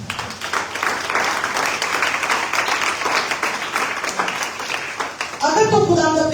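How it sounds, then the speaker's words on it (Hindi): A congregation at a church sermon clapping steadily, a sustained wash of applause lasting several seconds, before a voice resumes speaking near the end. "आइए तालियां हो जाए।"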